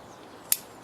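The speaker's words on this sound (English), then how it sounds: "Snip these edges off." A single sharp snip of scissors trimming maple bonsai root edges, one crisp close cut in an otherwise quiet moment.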